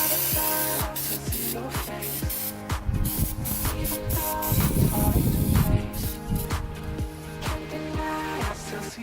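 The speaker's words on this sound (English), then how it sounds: "take some engine degreaser and spray out all this grease" Engine degreaser sprayed in long hissing bursts onto the greasy frame of a Suzuki RM 125 dirt bike, close up, with clicks and clatter between passes.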